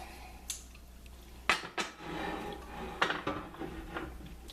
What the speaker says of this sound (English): heat up this skillet